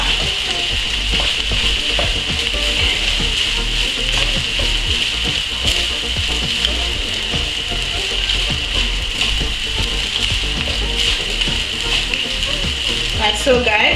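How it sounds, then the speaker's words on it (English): Rice and vegetables frying together in a pan for Nigerian fried rice, a steady, loud sizzle that holds for the whole stretch with occasional scraping stirs and no talk. "So I'll just go ahead and add rice to fry all together."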